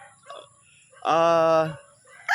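A Sweater-cross gamefowl rooster on a farm gives a single loud, harmonic crow-like call lasting under a second, with faint clucks and quiet background around it.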